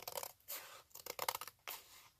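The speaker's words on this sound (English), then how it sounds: "take my scissors, and I'm going to cut to that fold on a very slight angle" Scissors snip through folded paper for a handmade junk journal, a quick series of close, crisp cutting strokes with short pauses between them.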